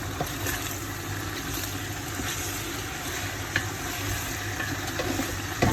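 Vegetable jollof rice is stirred in a pot with a gentle, continuous sizzling bubble and soft scraping, together with a low steady hum and a few small knocks near the end, with no speech.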